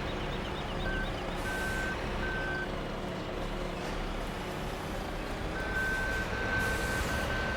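A vehicle in Farming Simulator 17 gives steady reversing beeps, a short series and then another after a pause, over a loud, continuous engine rumble.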